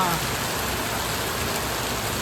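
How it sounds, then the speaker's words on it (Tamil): Heavy rain pours down in Nallur during a flood, a loud, steady, unbroken hiss of falling water that fills the whole stretch. "இப்போ நல்லூர்லேயும் பயங்கர மழை பெய்து"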